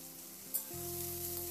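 Cut potatoes with turmeric frying in a pan, a faint steady sizzle with a soft stir, accompanied by a low background hum.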